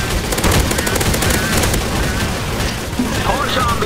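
Dense gunfire from a Counter-Strike: Source zombie escape round, with rapid shots layered into a loud, continuous clatter and voices talking over it throughout.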